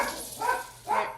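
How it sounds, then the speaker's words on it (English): Dogs bark twice in quick succession outdoors, moderately close, as heavy rain starts pouring, with a steady hiss of rainfall underneath. "Let me just lock the dogs out here"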